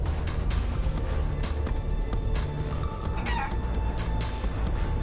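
A chicken in a video game clucks and flaps its wings in quick repeated beats, heard over a dense, constant bed of game noise with no talking.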